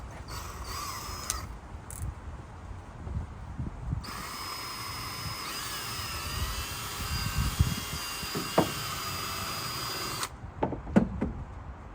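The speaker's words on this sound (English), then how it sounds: "I need to drill it out larger anyways to put the little washers in between" A drill bores out a bolt hole in a Toyota Tacoma truck bed, with short bursts at first, then a steady high whine lasting about six seconds, followed by a few sharp knocks and clicks.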